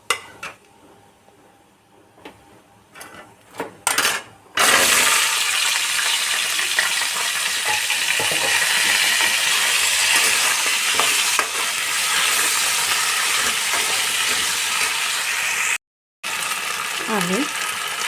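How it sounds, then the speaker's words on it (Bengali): Drumsticks (sajne data) fry in hot oil with salt and dried red chillies, a loud, steady sizzle that starts abruptly after some soft kitchen clatter and runs on continuously, with occasional stirring sounds. "অল্প একটু নুন দিয়ে সজনে ডাঁটাটা ভেজে নিচ্ছি।"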